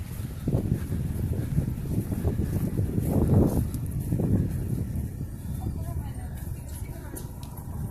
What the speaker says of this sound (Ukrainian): Можливо, навіть і ви чуєте цей шум вітру